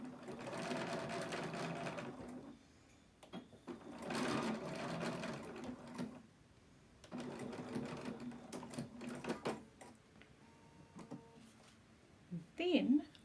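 Sewing machine running in bursts as it stitches back and forth over elastic in a casing while making scrub caps, several steady whirring runs with brief pauses between, close and clear, with a voice talking over parts of it.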